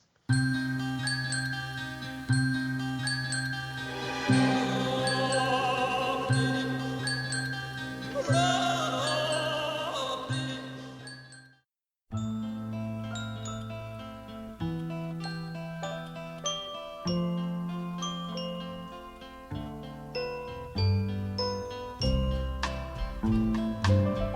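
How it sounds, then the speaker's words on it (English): Music from the soundtrack of Baz Luhrmann's film Elvis, with bright, tinkling little bell tones ringing in a repeating pattern over sustained chords, pausing briefly midway before resuming with a fuller arrangement. "Those little bells that you hear."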